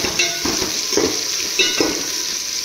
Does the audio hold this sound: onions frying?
yes